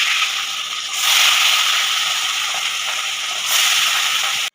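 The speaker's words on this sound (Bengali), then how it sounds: "তেলটা গরম হয়ে গেছে, এবার আমি মাছগুলো এক এক করে ভেজে নেব" Catla fish pieces rubbed with salt and turmeric sizzle loudly and steadily in hot oil in a wok, a close, continuous frying hiss with two brief surges.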